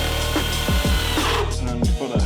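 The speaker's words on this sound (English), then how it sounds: "we'll drill the hole" A power drill bores a hole to mount lights on a Chevy Silverado truck, its loud whine repeatedly dipping and rising as the motor loads and eases in several close bursts.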